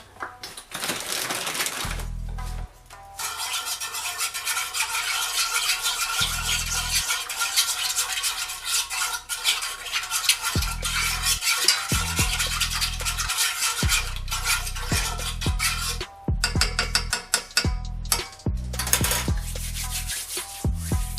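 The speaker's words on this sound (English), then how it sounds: "Alright, so then I want to mix this all together." Homemade natural soap made with soap nuts is stirred and mixed in a container, producing close scraping, rubbing and clinking sounds in irregular bursts, with a few short pauses between strokes.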